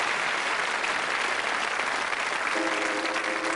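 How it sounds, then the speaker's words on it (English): An audience at a magic show claps steadily and energetically, a dense wash of applause that holds its level to the end. "A round of applause for Steve"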